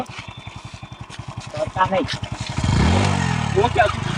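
A motorcycle engine putters in a steady low pulse, then opens up into a louder, rising rev, with people talking over it throughout.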